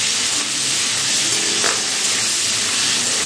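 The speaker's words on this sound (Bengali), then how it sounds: "দেখুন মিষ্টি কুমড়ো কিন্তু খুব ভালো করে ভাজা হয়ে গেছে" Pumpkin pieces seasoned with salt and turmeric fry in hot oil, a dense, steady hiss and crackle at constant loudness with a faint stir or clink partway through, and no speech.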